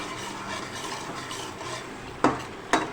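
A khandvi mixture with kasuri methi is roasted and stirred in a pan for a khandvi curry, giving a soft steady rubbing sizzle with two sharp spoon knocks near the end.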